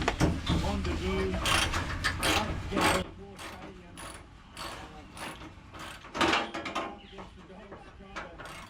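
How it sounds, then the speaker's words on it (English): Ratchet clicking as bolts are removed from the front nose piece of a 1975 Holden HJ during restoration, several bursts of mechanical ratcheting and metallic rubbing at close range, fairly quiet in a workshop setting. "What Dad's doing now is removing the bolts from that front nose piece"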